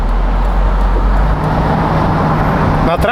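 A Mitsubishi Eclipse Spyder with a 3.8 engine pulling out onto the road: a loud, steady low engine drone and road rumble, heard from inside the car with a voice talking over it.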